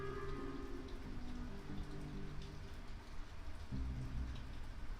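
Real rain patters as a faint, steady wash behind a Genshin Impact game session, mixed under sustained tonal music.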